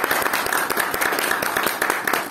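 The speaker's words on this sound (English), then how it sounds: "Can we just give her a round of applause" Toastmasters club audience applauding a speaker, a close, lively patter of many hands with distinct individual claps popping out of a steady clapping texture, sustained throughout without talk.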